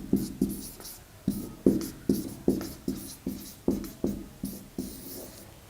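Writing on a board during an ethics lesson: a steady rhythm of short, distinct strokes, a dozen or so taps and scrapes heard up close with no talking.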